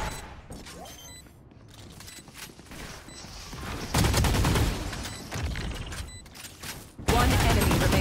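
Gunfire in the tactical shooter Valorant, several loud, dense bursts of shots and impact clatter in rapid succession, with faint game beeps and quieter stretches between volleys.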